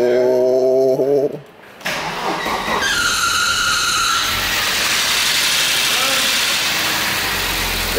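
An Audi Coupe Quattro left sitting for ten years cranks and catches, then settles into a steady, fairly loud idle with broadband engine noise and a bright whine over it, with no talking.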